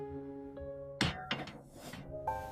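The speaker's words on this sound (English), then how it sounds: "I put the pan on the stove." A pan set down on a gas stove lands with one clear metallic thunk and a brief clatter, close and fairly quiet, against a steady tonal hum.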